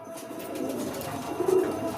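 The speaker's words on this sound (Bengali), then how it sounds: "এই চারটে বাচ্চা কিন্তু কালো পায়রার বাচ্চা।" Black pigeon chicks give soft, low cooing calls, faint and close, over a short stretch with no talking.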